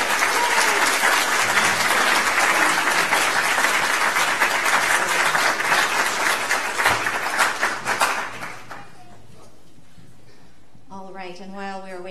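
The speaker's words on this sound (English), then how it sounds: "all please stand, and now we will clap for the friends." A standing congregation applauds at a service, with full, even clapping for about eight seconds that then thins out and fades, followed by a brief spoken voice near the end.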